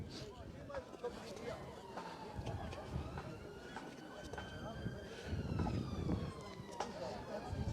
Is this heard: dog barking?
no